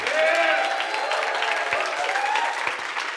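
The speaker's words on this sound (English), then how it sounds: "Let's give Kim Harvey a round of applause." Audience applause at a business summit event, sustained and fairly loud throughout, with faint voices mixed into the crowd noise.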